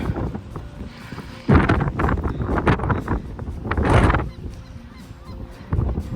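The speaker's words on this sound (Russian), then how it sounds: "Вот с этой стороны бешеный ветер." Strong wind gusts buffet the microphone in loud roaring bursts on the exposed west side of Ifach rock above the sea at Calpe, easing between blasts, with no voices.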